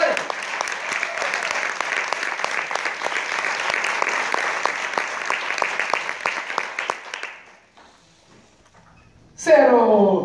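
Audience applause from a crowd at an on-stage event, loud sustained clapping for about seven seconds that fades out, followed by a short burst of other sound at the end.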